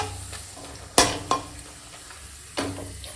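White papad frying in hot oil, a soft steady sizzle punctuated by three sharp clattering hits of a utensil against the pan.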